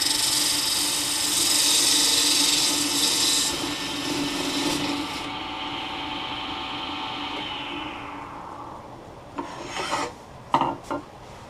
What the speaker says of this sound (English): Can't saw it that square.